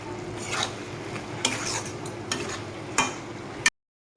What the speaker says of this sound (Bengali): ডালটাকে মশলার সাথে আমি ভালোভাবে কষিয়ে নিব